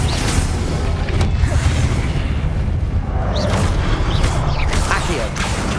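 Loud, dense explosive booms and crackling blasts from the Confringo spell in Hogwarts Legacy, layered over continuous game effects and music.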